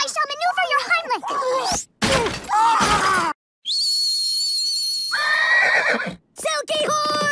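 A cartoon horse neighs and whinnies in several loud, high bursts, broken by short silences, with animated character voices talking around it.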